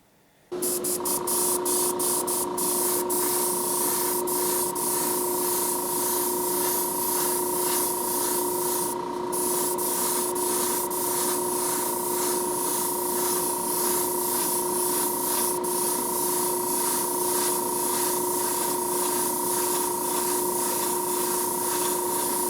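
Spray gun laying black candy dye onto a custom Hot Wheels 66 Nova, a loud continuous hissing spray with a steady tonal whine that starts abruptly and runs unbroken, close up and with no speech.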